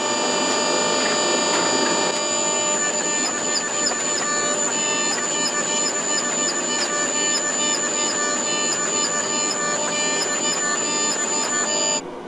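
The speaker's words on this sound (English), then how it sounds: "So I'm just going to put it under the press this last time and then cut the can off." A forging press squeezing a welded damascus steel canister whose sides bulge out, producing a loud continuous hydraulic whine with steady rapid mechanical ticking throughout.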